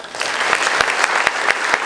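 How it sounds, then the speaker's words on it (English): An audience at a police citizens' award ceremony applauds a welcomed guest with a steady wash of clapping and a few louder, closer claps punctuating it. "a round of applause for"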